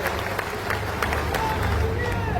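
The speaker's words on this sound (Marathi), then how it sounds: "त्यांचे एकदा जोरदार टाळ्या आपण या ठिकाणी स्वागत करू" Dense applause from a large crowd at a public event in Naigaon, continuous clapping with a murmur of voices underneath.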